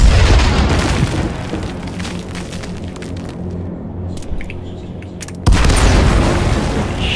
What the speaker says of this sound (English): They're throwing nades like crazy.